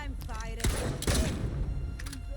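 Shotgun blasts in the video game Atomfall: two loud, sharp booming shots about half a second apart, with a third fainter shot after them, heard under a voice talking over the game sounds.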